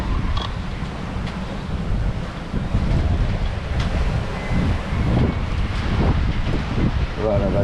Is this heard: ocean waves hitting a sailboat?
yes